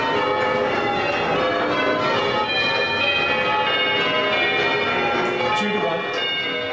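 Church bells of Holy Trinity in Québec peal continuously in English change ringing, overlapping metallic tones struck in rapid sequence, loud and sustained throughout.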